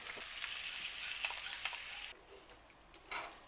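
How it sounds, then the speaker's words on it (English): Potatoes and sauce cooking in a pan over medium-low heat, a quiet continuous sizzle and crackle with scattered small pops and ticks, dropping abruptly quieter partway through. "add the potatoes and the sauce on a medium-low heat and cook for 8 minutes"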